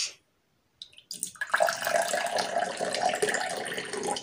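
Water poured into a small container for an onion and salt electricity experiment, a steady close splashing stream that starts after a brief silence and runs on without talk.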